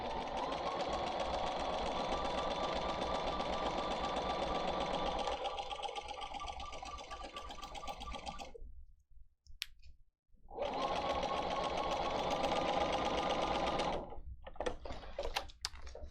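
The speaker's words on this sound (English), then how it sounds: "I'm going to sew a 1/4 inch seam allowance along there" Sewing machine running a quarter-inch seam on bias binding for a macaw wall quilt, long steady motorized stitching runs with a short pause between them, close and clear with no talk.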